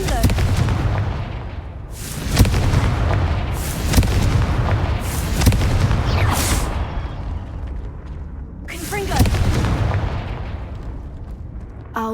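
Explosive spell blasts from Confringo in the video game Hogwarts Legacy boom repeatedly, loud and close, as a series of heavy bursts rolling over a rumbling background, with a pause before the last few.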